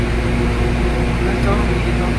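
Air cooling for a vacuum tube FM radio station transmitter gives a loud, constant blower roar with a steady humming tone, and a voice is faintly present beneath it.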